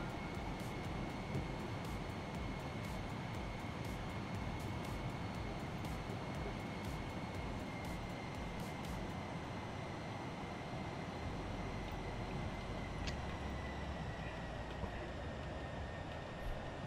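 A simulated ToLiSs A321 airliner lands in X-Plane 11 with a steady, quiet engine and airflow roar. A thin high whine runs throughout and faint clicks repeat over the first half. No voices are heard.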